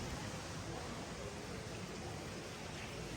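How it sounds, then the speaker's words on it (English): Steady broadband rush of water flowing through the garden fountains at Longwood Gardens in Pennsylvania, continuous and moderately loud with no talking. "I just love hearing all the water"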